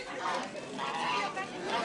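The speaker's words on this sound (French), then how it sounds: "une déambulation des oies, rodées à l'exercice" Trained geese on a parade walk past the public, honking together at close range over a steady background of crowd noise and faint voices.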